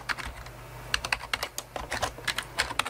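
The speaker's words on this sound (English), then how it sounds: "type in the name of your access point." Rapid, uneven clicks of typing on a computer keyboard, close and fairly quiet, with brief pauses between bursts of keystrokes.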